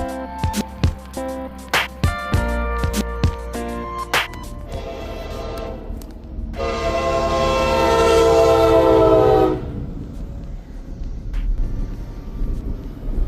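A train rumbles past nearby with rhythmic clanking of wheels over rail joints, then a long, loud horn blast sounds before the rumbling continues.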